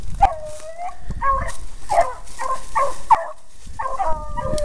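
A pack of beagles bays on a rabbit chase in April, giving repeated overlapping howling yelps from several dogs in a loose, uneven rhythm, clear and fairly close, with outdoor rustling underneath.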